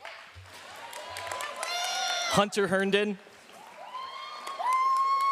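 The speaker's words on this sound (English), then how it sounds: "wait until I read the name and then you can give them a round of applause" An audience at a school annual awards ceremony gives a round of applause, a short burst of clapping mixed in with an announcer's voice reading out names over a microphone.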